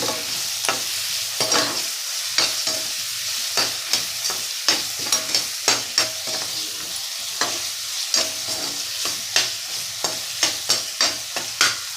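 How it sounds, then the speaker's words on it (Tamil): Tomatoes sautéing in a pan with rock salt, a steady close sizzle broken by frequent sharp scraping clicks of a spoon stirring, nearly a dozen strokes in a loose irregular rhythm, with no voices. "கல் உப்பு தான் போடுறேன், அப்போ தான் அந்த தக்காளி நல்லா வதங்கி வரும்."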